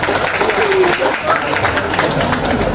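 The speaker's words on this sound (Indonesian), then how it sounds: "Tepuk tangan buat Alfa Midi." Applause from an audience at a school industry-class launch event for Alfamidi, a steady dense wash of clapping with voices mixed in throughout.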